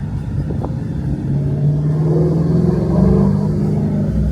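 Stock Ford Mustang Shelby GT350R with exhaust valves open rumbles along a winding Maui road, its engine note swelling into a louder, rising drone partway through, close and without talk.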